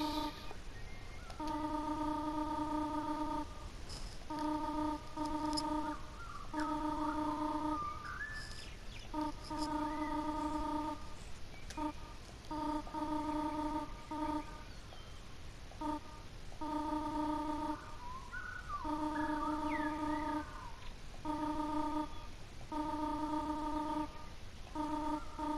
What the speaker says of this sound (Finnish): Puhelin soittelee.